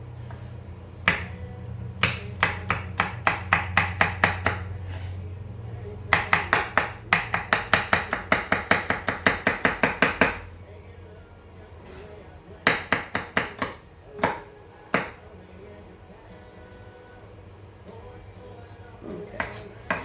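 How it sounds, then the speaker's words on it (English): Knife chopping celery finely on a cutting board for chicken noodle soup: quick rhythmic runs of sharp taps, close and clear, in several bursts separated by pauses, with faint room noise between. "we are going to chop the celery kind of fine"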